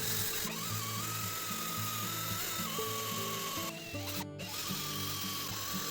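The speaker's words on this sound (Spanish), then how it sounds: "Ahora empiezo a perforar los agujeros" Drill boring holes in aluminium for a homemade CNC table, a continuous loud motor whine with a steady pulsing, stepped tone that shifts pitch as the bit works the metal, no talk.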